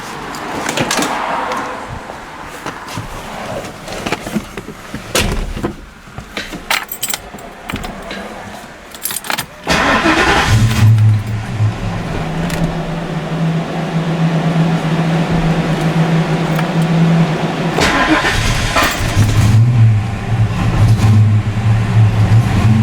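Fox Body Mustang engine after an idle air control valve swap, clattering into life and then held running with throttle, a steady loud idle rumble with brief rises in revs.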